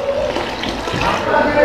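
Water splashes and pours into a pot of lentils and spinach, about a cup's worth, for a moment: a close, wet gurgle with no talking over it.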